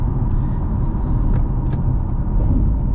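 A 2023 Toyota Camry on the road, heard from inside the cabin as a loud, continuous low engine and tyre rumble with no talking.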